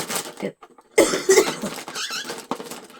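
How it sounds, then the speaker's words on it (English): A few short, harsh coughs close by, bunched together with brief gaps, with some squeaky throat sounds between them. "I just start coughing"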